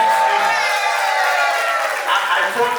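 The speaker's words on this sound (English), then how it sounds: "A top round of applause for her, please." A large audience at a medical symposium applauds and cheers, a dense steady wash of clapping with a few whoops rising near the end.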